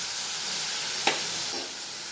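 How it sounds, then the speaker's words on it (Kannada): Brinjal frying in oil for vangi bath gives a steady, moderate, close hiss, broken by two sharp little spatters or clicks near the end. "ಎಣ್ಣೆ ಚೆನ್ನಾಗಿ ಫ್ರೈ ಆಗ್ಬಿಟ್ಟಿದೆ. ಚೆನ್ನಾಗಿ ಫ್ರೈ ಆಗಲಿ."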